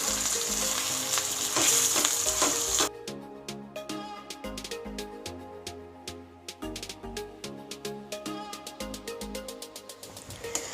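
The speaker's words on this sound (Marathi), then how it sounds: "एक 2 मिनिटं थोडंसं ते बटाटे जे आहेत ते परतून घ्यायचे" Potatoes for a kachhi dabeli filling sauté in a pan, with a steady sizzle at first that then breaks into rapid crackling and popping with many small clicks, close and moderately loud, with no talk.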